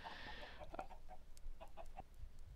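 Minecraft chickens clucking at a chicken farm, a handful of short, soft clucks scattered irregularly over quiet background.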